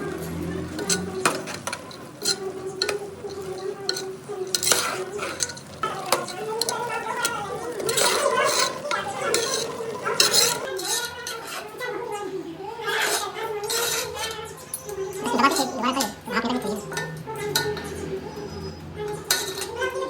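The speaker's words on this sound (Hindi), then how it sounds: "अब इसमें हम डाल देते हैं बूंदी। थोड़ा सा चलाना है, ज़्यादा नहीं चलाना होता है।" Boondi being stirred into sugar syrup in a pan, heard as repeated metallic clinks and scrapes of a spoon against the vessel, with someone talking intermittently over the kitchen clatter.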